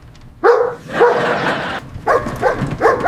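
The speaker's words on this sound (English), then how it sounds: "Every time you bark and the mail carrier leaves" A dog barks loudly and close, several sharp barks in quick succession with brief pauses between bursts.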